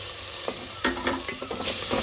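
Chicken cubes hit hot oil with garam masala and fry with a sharp sizzle, punctuated by several quick stirring scrapes and clinks in the pan, close and steady, no talk.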